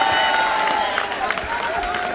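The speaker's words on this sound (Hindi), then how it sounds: "एक बार दोनों हाथ खड़े करके जोरदार तालियां बजाएं जितेंद्र अवार्ड साहब के लिए।" An audience claps for a poet at a mushaira, a gathering for Urdu poetry recitation. The applause is a dense, sustained wash running through the whole moment, with a steady held tone and some voices underneath.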